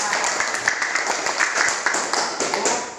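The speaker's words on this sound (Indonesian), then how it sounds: "Tepuk tangan untuk kita semua." Classroom applause after a student role-play, a dense, steady patter of many hands clapping together for the whole stretch at moderate loudness, with faint voices mixed in.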